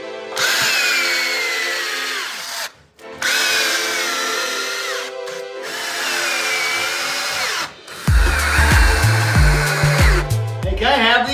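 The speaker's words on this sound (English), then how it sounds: "This is probably the most critical part to screw together really well." A power drill drives screws into wood, with three long whining bursts separated by short pauses, loud and close. A different rhythmic, buzzing mechanical noise follows, and faint voices can be heard.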